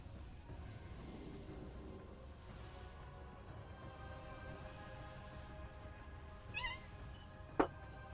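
A pet kitten lets out a faint, brief meow followed a second later by a sharper, louder chirping meow, both close against a quiet room hiss.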